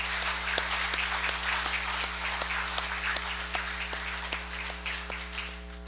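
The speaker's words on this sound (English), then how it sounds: "let us give him a round of applause" A round of applause at the opening of the 24th Congress of the Federated States of Micronesia, sustained clapping from a room of people with a few sharp individual claps over a steady electrical hum.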